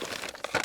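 Paper crinkled and crumpled by hand while sorting through clutter in the back of a wrecked Toyota Tacoma. It comes as a short burst of close, dry rustling that grows louder toward the end.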